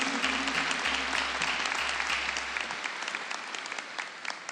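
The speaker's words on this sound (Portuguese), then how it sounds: "E agora que você beijou essa palavra, aplauda a palavra de Deus. Aplauda Jesus." Congregation applauding in a church during a Catholic revival service, dense steady clapping filling the room and slowly fading, with a low organ or keyboard tone underneath.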